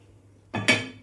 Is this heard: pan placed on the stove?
yes